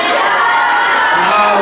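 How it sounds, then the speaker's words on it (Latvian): A school audience at an aerobics day performance cheers and applauds loudly, a dense wash of crowd noise with whoops and children's shouts, while an announcer's voice talks over it. "Un aplausi vēlreiz."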